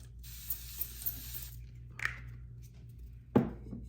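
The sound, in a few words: facial spray being sprayed onto cream makeup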